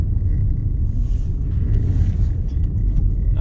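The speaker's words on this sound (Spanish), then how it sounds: "Ahí viene un carro." Low, steady rumble of road noise from a car driving on a snowy two-way road through pine country, with an approaching vehicle that cannot be picked out as a separate sound.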